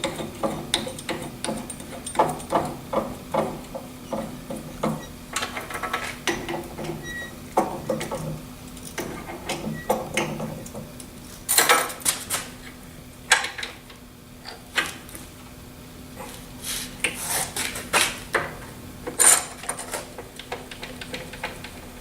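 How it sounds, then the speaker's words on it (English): A drilling machine deburring a part with a center drill, heard as a series of sharp mechanical ticks and clicks with brief louder bursts, moderately close and without talk. "I think I'll use the center drill instead of this drill bit."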